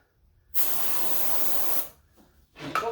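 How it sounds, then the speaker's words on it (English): A single hissing burst of ether spray, about a second long, shoots into the intake of a long-idle John Deere A tractor engine, loud and close against quiet surroundings. "I'm going to give it a little bit of ether right down the yap right off the bat"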